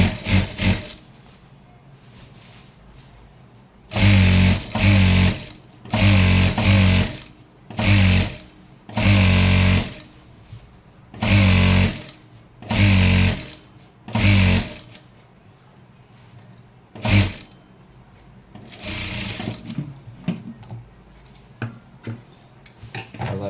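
A sewing machine stitches a chudithar pant in repeated bursts of steady whirring, about a dozen runs separated by short pauses, close and loud, with a few faint clicks and handling sounds toward the end.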